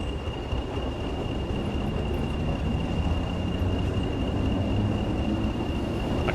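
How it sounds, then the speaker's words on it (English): A train from the Train Sim World 6 game, a freight run on the West Coast Main Line, rumbles steadily in a dense, constant roar of wheels and track noise. A thin high whine rides on top throughout. "I can hear an underground train."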